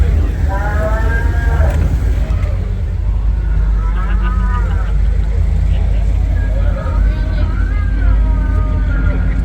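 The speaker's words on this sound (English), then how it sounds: "Sound like that cow is dying." A cow moos in long, drawn-out, strained calls at an outdoor car show, repeated several times over a steady low rumble of engines and crowd noise.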